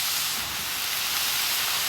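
Steam hisses steadily from water-dampened paper towels laid on a hot griddle while rolled tacos cook, a broad constant sizzle that stays loud and unbroken with no talking.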